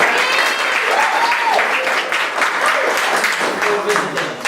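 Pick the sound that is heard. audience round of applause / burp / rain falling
audience round of applause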